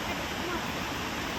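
A forest waterfall gives a short burst of dense, steady rushing water, close and unbroken.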